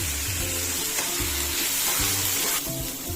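Tomatoes fried with chilli and onion in a pan for Indian-style tadka fried rice, a dense, close, steady sizzle with occasional stirring scrapes and no speech over it.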